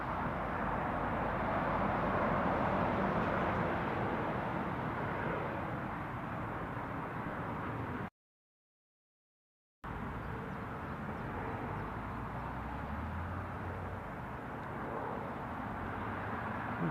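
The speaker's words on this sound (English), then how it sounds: "There's the police chopper." A police helicopter near Newcastle International Airport makes a steady, distant, broadband roar that continues throughout, with one brief dropout partway through.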